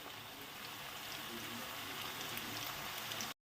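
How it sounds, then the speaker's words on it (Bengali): Onions fry over medium-low heat in a pan, giving a steady, close sizzle with fine crackling that holds level for about three seconds before cutting off abruptly. "এই পেঁয়াজটা একটু হালকা লালচে হয়ে যাবে, মিডিয়াম টু লো আছে পেঁয়াজটাকে ভাজি"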